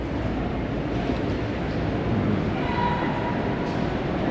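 A train running through Seattle, a continuous loud rumble of wheels and carriages on the rails, heard close and steady, with a faint tonal squeal midway and no clear talk.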